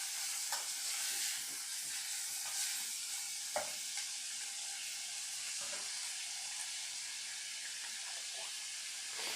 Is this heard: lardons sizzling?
yes